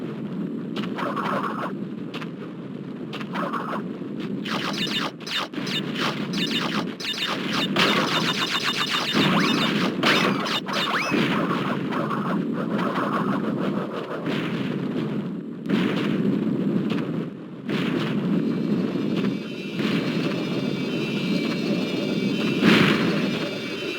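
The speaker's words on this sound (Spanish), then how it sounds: "el efecto de sonido que tiene esta gran piedra al dar unos saltos" A large rolling boulder from the Crash Bandicoot video game crashes and bounces in a string of heavy booming impacts over a steady rumbling bed, louder as it nears, with a final hard hit.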